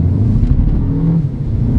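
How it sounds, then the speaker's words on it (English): A 2021 Renault Clio RS Line engine is floored up a steep hill, a loud low steady drone under heavy load, close and continuous with some wind rumble. "So this is floored up the hill."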